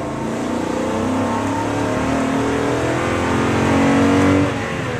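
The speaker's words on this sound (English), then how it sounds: "I'm going to show you what this V8 is capable of doing." A 2011 Toyota Tundra V8 pickup truck revs and accelerates hard close by, its pitch climbing steadily and growing louder toward the end.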